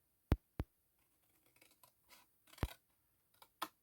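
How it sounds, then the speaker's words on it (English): Scissors snip along printed lines in paper tags, giving a few sharp close cuts followed by softer, irregular snips and paper rustling in a quiet room. "So you just cut along the line"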